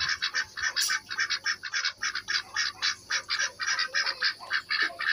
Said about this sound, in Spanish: Los patos Muscovy, también conocidos como patos criollos